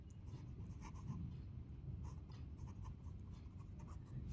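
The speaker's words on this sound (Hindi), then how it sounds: "यहाँ लिखेंगे आप" Pen scratching on paper during a Class 8 maths lesson on quadrilaterals, a continuous soft scribbling close up with short rhythmic strokes over a low room hum.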